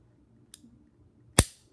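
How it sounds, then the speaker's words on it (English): A Smith and Wesson 642 revolver gives two dry mechanical clicks as the cylinder stop snaps back into place, a faint tick followed by a sharper, louder snap, close and alone with no talk. "The sound that you're hearing is the sound of the cylinder stop going back into place."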